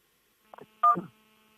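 Telephone keypad buttons are pressed during a live broadcast call setup, giving two short electronic dialing tones, the second louder and longer, in an otherwise quiet moment.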